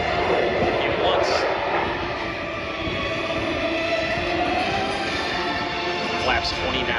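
A fixed-wing airplane flies slowly down the show line at an air show, nose held high, its engine a steady loud drone throughout, with a commentator talking over it.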